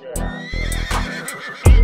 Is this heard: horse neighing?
yes